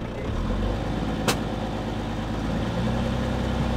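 A car engine runs at a steady low idle-like rumble, close and continuous, with one brief click partway through, as the clutch is eased out to move off; no talking.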